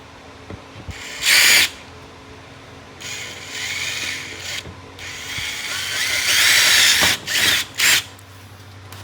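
Power drill boring holes for fender flares on a 2012-2017 Can-Am Maverick, loud short bursts of whining drilling with mechanical clicks and a lower ratcheting stretch in between.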